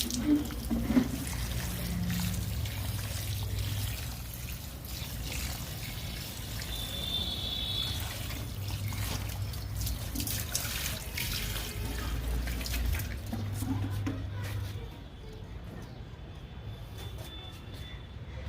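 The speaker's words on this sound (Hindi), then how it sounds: "अब इसकी सॉइल में भी हम पानी दे देंगे" Water poured into the soil of a potted clematis vine, a steady trickling and splashing stream close by that runs for most of the time before quieting near the end, with no talk.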